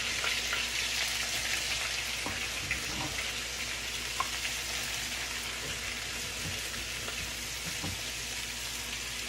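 Breaded okra frying in hot oil gives a steady, dense sizzle with a few soft pops and crackles, close and even throughout, with no one talking.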